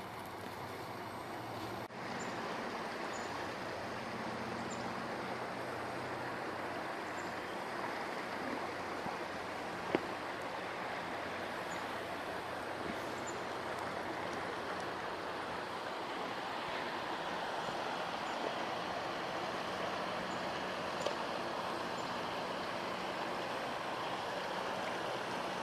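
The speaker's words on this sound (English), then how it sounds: "Running the crappy Highbanker." A highbanker runs with water during gold prospecting at Pickerton, a steady rushing wash of flowing water and pump noise throughout, even and fairly faint, with a couple of small knocks and no talking.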